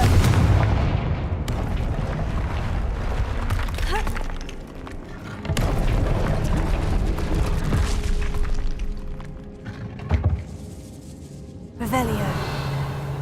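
Repeated booming blasts from the Confringo spell in the video game Hogwarts Legacy, several heavy explosions rolling one after another amid rumbling game sound, with a voice heard now and then.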